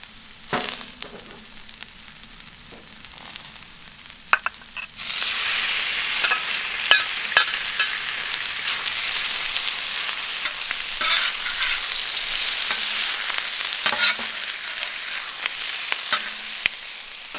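Meat and vegetables frying in oil on a Pit Boss five-burner flat top griddle for chow mein, a steady loud sizzle that swells after a few seconds, with scattered scraping and stirring clicks throughout.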